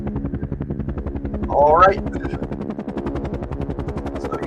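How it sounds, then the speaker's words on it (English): Helicopter rotor chops steadily and loudly in a military action video game, with a rapid even beat throughout, while a voice speaks briefly over it midway. "I'm gonna need that helicopter track for when I sleep. I love that sound in my head."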